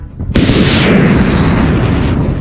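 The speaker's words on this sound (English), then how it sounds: "The US Army fired a Tomahawk missiles." A Tomahawk missile launch fired by the US Army, heard as a sudden loud blast that turns into a sustained roaring rush, with no talk over it.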